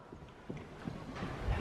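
A horse's hooves clip-clop at a walk during warm-up with riders, a faint, evenly spaced series of soft thuds over a quiet outdoor background.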